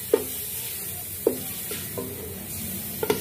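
Grated bottle gourd fries in a pan, a soft steady sizzle punctuated by three or four sharp clinks of a spoon against the pan, close and fairly quiet.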